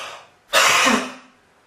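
A single forceful breathy huff cough to clear sputum, a sharp exhaled burst lasting about half a second, close to the microphone, with no talking.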